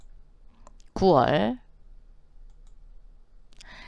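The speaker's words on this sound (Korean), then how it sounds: "클릭." A computer mouse clicks a couple of times, faint and brief, around a short spoken word.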